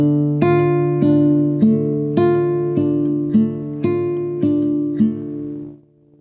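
Classical guitar played with a thumb-index-middle-ring fingerpicking pattern from a Sagreras beginner lesson: a steady run of about nine plucked arpeggio notes with ringing sustain, clear and close, no talking, fading out at the end.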